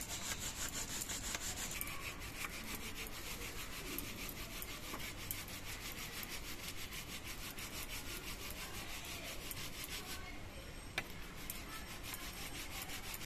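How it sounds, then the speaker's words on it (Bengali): Two pieces of mankachu (giant taro) are rubbed over a hand grater, a steady, continuous rasping scrape that runs evenly and close up for the whole stretch with no talking. "আমি দু পিসি মান কচু ঘষে নিয়েছি।"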